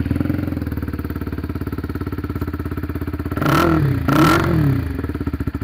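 A VOGE R125 motorcycle with a Scorpion stainless steel full exhaust system idles with a deep, throbbing exhaust note, then revs twice sharply before settling back to its steady lumpy idle.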